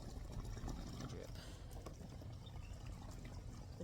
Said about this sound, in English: So it's supposed to be a little, you know, a drip.